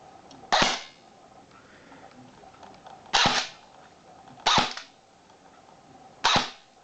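HK416 airsoft replica fired on semi-auto, four sharp single shots spaced irregularly over a low background hiss, each a crisp close crack with a short tail.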